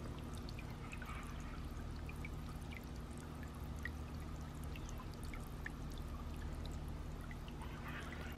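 A backyard patio solar water fountain pours continuously, a faint steady stream with light trickling and scattered droplet splashes, no voices.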